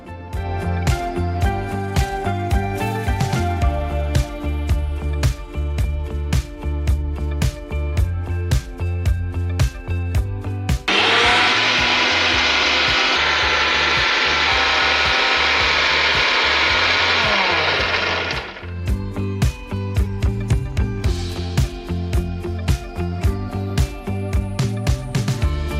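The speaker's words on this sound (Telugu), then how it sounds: "వావ్, సో పర్ఫెక్ట్ గా మిక్సీ చేసేసాను." A mixer grinder whirs loudly and steadily for several seconds while blending ajwain leaf chutney with tamarind and water; rhythmic clattering and knocking fill the moments before and after the motor runs.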